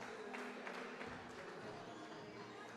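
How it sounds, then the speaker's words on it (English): Faint, steady murmur of a crowd fills a gym at a college basketball game between UA Cossatot and Southern University Shreveport, a low wash of chatter and cheering heard at a distance. "Crowd making some noise tonight."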